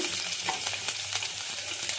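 Garlic and mustard seeds sizzling in hot oil for a tempering, a steady crackling fry with light stirring taps and small pops, close and uninterrupted by speech.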